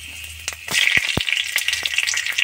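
Panch phoron and bay leaf hitting hot oil, a quiet moment that bursts into loud crackling sizzle with sharp spice pops and snaps, close and busy.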